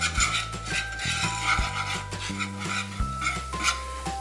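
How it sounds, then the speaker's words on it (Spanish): Flour cooking in a pan for broccoli and cheese croquettes is worked with a utensil that rubs and scrapes the pan in an uneven rhythm. The sound is close, under a steady low hum. "Y vamos a mezclar y vamos a dejar a que la harina se cocine aproximadamente por unos 3 minutos"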